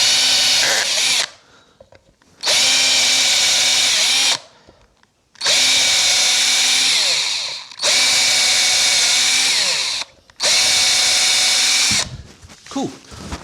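A power drill bores a series of holes into a Stratocaster guitar body, sounding as four or five loud whirring bursts of a few seconds each, separated by short pauses.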